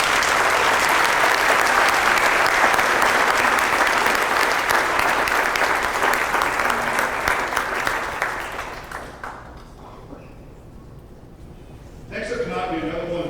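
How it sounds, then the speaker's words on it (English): An audience at a high school spring band concert gives loud, sustained applause that fades out after about nine seconds, before a voice begins speaking near the end. "Let's give all these students a big round of applause."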